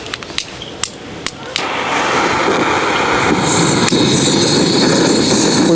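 Firebox gas burner being relit outdoors in wind: a few sharp clicks and taps, then a sudden loud, steady roar of the flame that holds and builds for the rest of the stretch.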